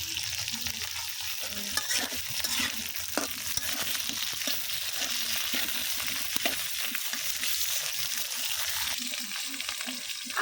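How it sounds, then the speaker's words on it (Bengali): Vegetable stems and potatoes frying in oil, a continuous close sizzle with scattered crackles and occasional scrapes of stirring throughout, steady and fairly loud with no talk. "তো এখন দিয়ে দিব তেলের মধ্যে হলো গিয়ে ডাটা আর আলু"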